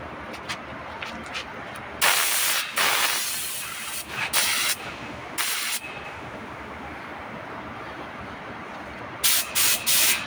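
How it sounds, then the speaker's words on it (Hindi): A spray gun spray-painting a door, its hissing blasts coming in several bursts of a second or two with quieter air hiss between them, loud and close. "आज इस डोर को पेंट लगेगा, spray gonna work spray painting."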